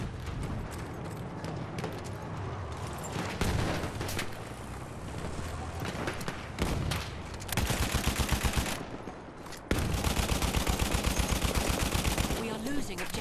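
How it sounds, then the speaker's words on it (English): Battlefield 1 multiplayer gunfire: dense, loud bursts of rapid automatic shots and single cracks, with sustained volleys in the second half, under game noise and occasional voice. "somebody's shooting at me."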